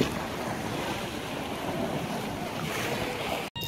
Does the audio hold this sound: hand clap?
no